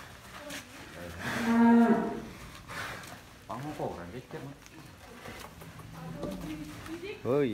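A young 1,225 kg cow lets out a loud, low moo nearby while people talk over lively background commotion.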